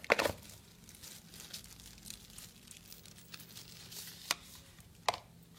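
Smartwatch packaging being opened, with soft crinkling and rustling of wrapping, a sharp crackle at the start and a couple of brief crisp rustles near the end, all fairly quiet and close with no talking.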